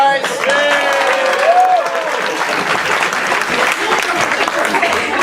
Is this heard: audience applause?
yes